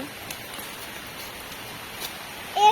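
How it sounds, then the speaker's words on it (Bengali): Rain falling outdoors makes a soft, even hiss with faint scattered drop patter throughout, fairly distant and quiet, ending with a brief louder rustle at the very end. "বৃষ্টি শুরু হয়ে গেছে আমাদের এখানে"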